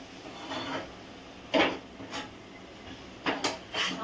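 Roasted masala with Kashmiri red chili being scooped out of a pan with a spoon, a few short scraping rubs against the metal separated by pauses, close and fairly quiet.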